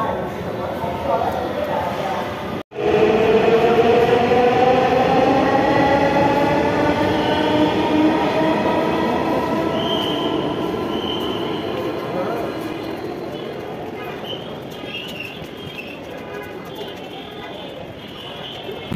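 A metro train at Uttara station in Dhaka rolls through with a loud rising and falling electric whine and rumble that slowly fades over the platform after a brief sharp knock.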